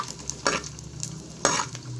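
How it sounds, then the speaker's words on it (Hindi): Edible gum (gond) fries on a low flame under constant stirring, a light steady sizzle punctuated by two or three sharper scraping strokes of the spoon against the pan, close by and without speech. "इसी तरह मुसलसल चलाते हुए हमें इसे फ्राई करना है।"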